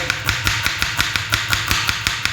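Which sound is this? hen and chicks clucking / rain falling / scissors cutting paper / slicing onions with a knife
slicing onions with a knife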